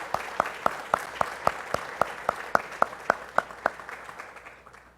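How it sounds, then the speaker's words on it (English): An audience at a 2018 candidates forum claps for the candidates, about fifteen to twenty sharp, evenly spaced claps in a steady rhythm. The clapping is fairly close and fades toward the end, with no talking over it. "let's give all these candidates a hand"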